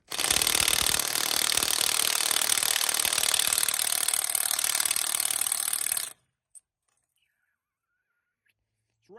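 Stuck spark plugs on a 1927 Chevy truck are worked loose with a loud, continuous, rapid rattling hammering that lasts about six seconds, then cuts off abruptly into near silence.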